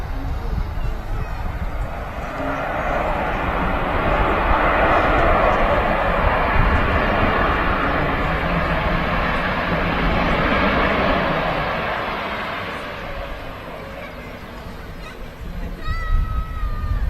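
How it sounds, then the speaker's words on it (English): Kuwait Airways Airbus A330neo, two years old, arriving at Manchester Airport on an inaugural service from Kuwait City; a long, swelling jet roar that builds, holds, then fades, with talk over it. "Kuwait Airways Airbus A330neo, 2 years old, this particular aircraft, and as I say, coming today from Kuwait City on their inaugural service"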